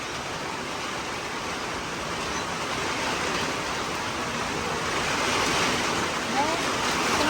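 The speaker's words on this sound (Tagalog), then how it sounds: "di na kami makauwi sa lakas ng ulan." Heavy rain pouring steadily over flooded farm fields in the countryside, a dense continuous hiss filling the scene at a constant loud level with no break.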